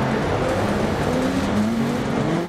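A rallycross car in DiRT Rally 2.0 at the Latvia WRX track on dry sand drives at full throttle, its engine loud and close, the revs climbing steadily with tyre noise under it.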